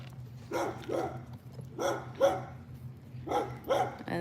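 Dogs on a morning walk give three pairs of quick double barks, evenly spaced and fairly close, with a steady low hum of outdoor background underneath and no talking.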